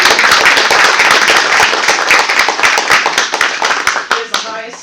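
Loud, dense applause from a meeting audience honoring two National Board Certified Teachers at a board of education meeting, sustained clapping that thins into scattered claps near the end.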